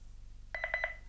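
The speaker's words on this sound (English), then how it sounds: "and it beeps twice" Honeywell 5822T wireless door sensor triggering an L5200 alarm panel, which answers with four quick, evenly spaced electronic beeps, clear and isolated over a faint background hum.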